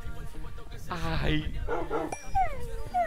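A dog in Minecraft whimpers and yips in short high whines, with a man exclaiming loudly over it.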